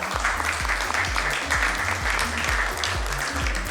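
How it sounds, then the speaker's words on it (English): An audience at a nursing conference panel in a Mumbai hotel gives sustained applause, an even wash of clapping, while music with a regular rhythmic beat plays underneath. "Let's have a huge round of applause for her."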